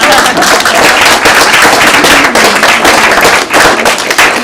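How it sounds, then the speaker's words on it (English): Loud, close applause for new school administrators at a school district board meeting, dense rapid clapping from a crowd sustained for several seconds without talk. "I think we should clap first."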